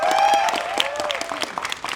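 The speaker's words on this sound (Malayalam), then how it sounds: "ആ ജോജോ ചേട്ടനെ ഒരു കൈയടി സ്പെഷ്യലായിട്ട് കൊടുത്ത് തന്നെ വിളിക്കണം" Audience applause for actor Joju George at the Thug Life trailer launch, a burst of crowd clapping that swells and fades over a couple of seconds while a voice carries on over it.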